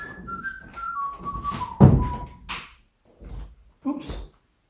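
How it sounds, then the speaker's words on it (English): A person whistles a short tune, a run of clear sliding notes that step downward, followed by a few knocks and thuds nearby. "you think I'd be copyrighted for whistling that tune?"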